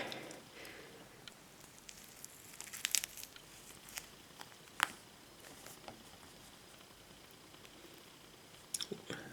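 Someone eats a juicy orange up close in a quiet room, with soft wet squishing and occasional sharp crinkly bites over a faint background hiss, no talking.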